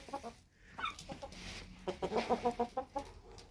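Chickens clucking nearby in short rhythmic bursts, several birds calling in quick succession against a quiet outdoor background.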